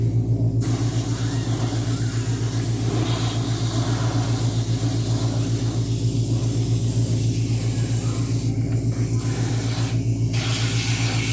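An airbrush sprays paint in a steady, loud hiss at high pressure over a constant low hum, with brief gaps near the start and end where the spray pauses.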